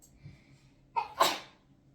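A single sharp sneeze bursts out after a brief intake of breath, close and fairly loud, in an otherwise quiet room.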